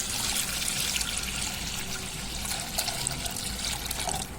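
Water pours steadily into a pot of washed toor dal with turmeric and asafoetida added, making a continuous close splashing trickle with small bubbling gurgles and no talk.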